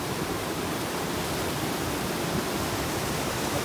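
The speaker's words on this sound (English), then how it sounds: "It's an electric pump, impellers, and the way it works is that it sucks up water and pumps it across" An electric impeller pump station on a Guyana seawall pushes water across, giving a steady, dense rushing roar like a waterfall that holds constant and loud throughout, with no voices.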